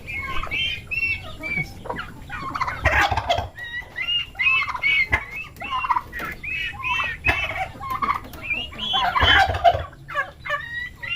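Repeated loud turkey gobbles, rapid warbling calls that come in bursts throughout, mixed with squawks and clucks from other fowl close by.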